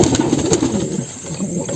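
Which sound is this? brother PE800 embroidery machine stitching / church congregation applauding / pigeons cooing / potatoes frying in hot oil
pigeons cooing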